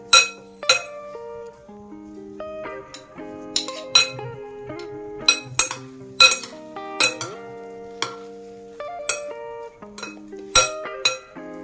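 A spoon clinks repeatedly against a bowl while potatoes and bhallas are mixed for dahi bhalla, with sharp ringing taps in an irregular rhythm, close and clear, with no voices.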